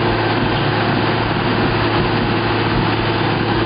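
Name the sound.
geothermal loop drilling rig engine running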